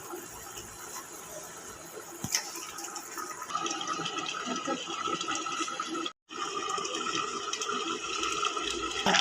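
Koi fish slid into a boiling, bubbling curry, giving a watery splash and a steady close sizzling, bubbling wash with a brief gap partway through.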